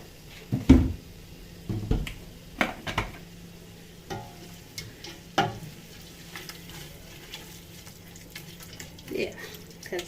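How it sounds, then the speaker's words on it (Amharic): Onions frying in oil in a pot for red lentil misir wot, a soft steady sizzle beneath several sharp stirring knocks and scrapes, close up. "ሽንኩርቱን ጠብሰዋለሁ በዘይቱ።"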